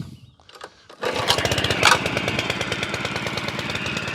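Honda lawn mower engine starting on choke after a single pull: a short pull-cord rasp, then the engine catches and settles into a loud, steady, rapid putter, close by.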